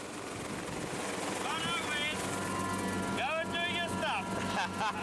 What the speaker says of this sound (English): Laurie must keep the chopper hovering while Wes goes out to the edge.